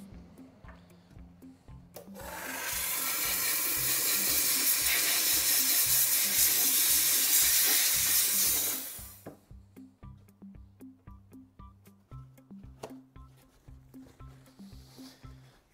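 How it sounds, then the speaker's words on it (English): A steam cleaner sprays a loud, steady hissing blast onto an acrylic dental model for about seven seconds, then cuts off, leaving only quiet rhythmic background sounds. "steam clean the model."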